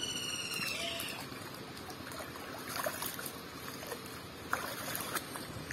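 Ash gourd pulp held in a net is squeezed and washed in water, giving a steady wet sloshing and trickling with soft splashes and drips, close and moderately quiet.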